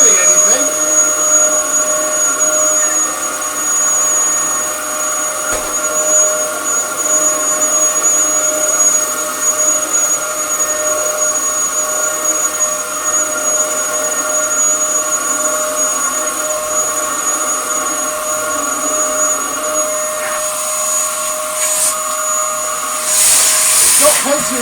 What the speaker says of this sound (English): Does have plenty of suction, but is not a happy Dyson.